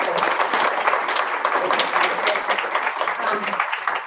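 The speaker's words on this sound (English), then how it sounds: "So big round of applause for them." A room full of people at a woman's club meeting claps steadily and warmly for volunteers for several seconds, a dense, even burst of applause that fades slightly at the end.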